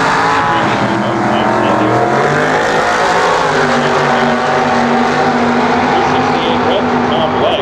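A drag race car powered by a Chevy 454 motor, with an older-style chassis, blasts down the strip at the 1998 Gator Nationals in a loud, sustained, rising engine roar, while an announcer talks over it.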